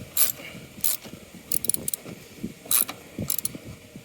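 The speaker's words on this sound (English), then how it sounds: "And we'll take the socket. Let's tighten up the bottom one first." A socket ratchet tightening a bolt, with short bursts of rapid clicking in an uneven rhythm, close and fairly quiet, separated by brief pauses.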